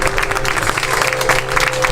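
Audience at a music talk at a poetry festival applauds, a steady wash of moderate clapping through the whole short stretch with a faint hum underneath.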